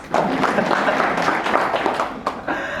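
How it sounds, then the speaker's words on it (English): Dense, loud applause from an audience at a Courage to Care event on racism and prejudice, many hands clapping close together in a continuous roar that thins slightly near the end. "Give yourself a round of applause."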